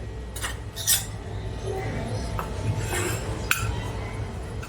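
A spoon scrapes and clinks against a bowl while spices are stirred together: coriander-cumin powder, dried mango powder, chaat masala and salt for a puffed-rice poha chevdo. Several sharp metallic taps and clinks, close and moderately loud, with no talk.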